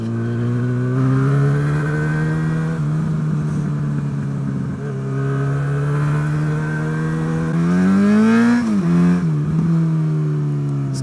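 A Jaguar XJ6 drives along narrow back roads. The engine sits at a steady loud drone with harmonics climbing and falling as it revs up and eases off, and there is a brief dip and surge near the end.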